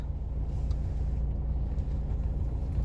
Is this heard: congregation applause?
no